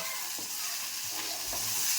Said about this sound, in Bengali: পেঁয়াজের সাথে টমেটোটাও একসাথে ভাজা ভাজা হবে